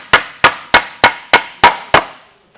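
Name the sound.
hammer tapping out sheet metal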